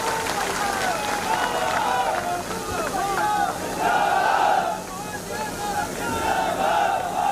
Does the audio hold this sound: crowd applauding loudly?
yes